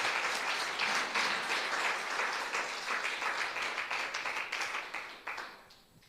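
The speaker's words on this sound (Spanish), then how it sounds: "Dele un fuerte aplauso al Señor" Church congregation giving a strong round of applause, brisk clapping with audible individual hand strikes that stays full for several seconds, then thins to scattered claps and dies away.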